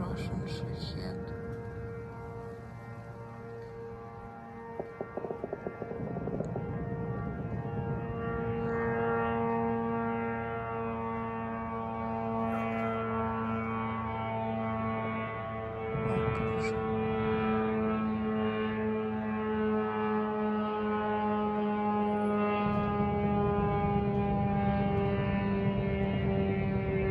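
A continuous buzzing propeller drone of a Shahed attack drone hums overhead for a long stretch, its tone shifting slightly as it passes, with faint voices beneath.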